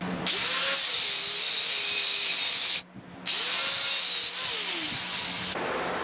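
A power drill whines steadily at high speed while drilling a bowie knife blade during forging work, running loud and close, with a brief pause near the middle before it spins up again.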